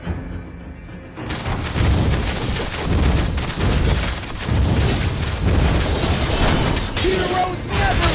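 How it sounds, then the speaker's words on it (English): A turret destroyed in the mobile battle arena game Mobile Legends, heard as booming explosions and shattering hits. They come after a quiet start, amid loud combat effects and announcer voice lines. "Your team destroyed a turret!"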